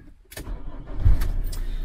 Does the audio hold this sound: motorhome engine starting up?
yes